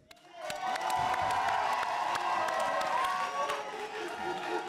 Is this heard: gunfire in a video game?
no